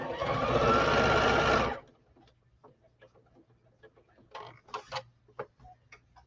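Sewing machine running in a continuous loud, steady whir near the mic for nearly two seconds, then stopping; faint clicks and rustles of handling follow in a quiet room.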